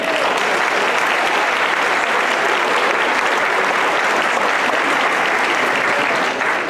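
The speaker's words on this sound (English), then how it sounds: "Please move a round of applause for them." An audience at a school athletic awards night applauds the guest speakers, a dense, continuous wash of clapping that holds evenly throughout with no talking over it.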